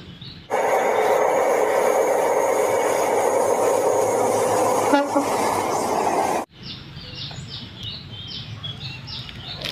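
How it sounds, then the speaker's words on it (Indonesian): A toy high-speed train runs with a loud, steady electric whir for several seconds, then cuts off abruptly, leaving faint chirpy electronic beeps. "Ini ada kereta api cepat."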